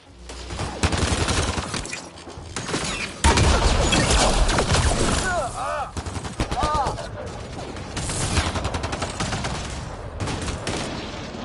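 Sustained firefight gunfire from Mass Effect Andromeda, loud dense bursts and rattling automatic fire with sharp crashes, continuing for over ten seconds, with a voice briefly shouting amid the shooting.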